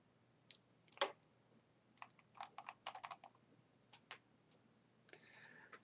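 Keys clatter on a PS3 keyboard: a scattered series of soft, close clicks and taps in irregular bursts, fairly faint against a quiet room.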